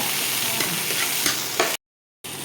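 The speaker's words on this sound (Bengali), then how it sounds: "এটা ভাজে নিবা" Food frying in a pan gives a steady, close sizzle with stirring scrapes, briefly cutting to silence before the sizzle resumes.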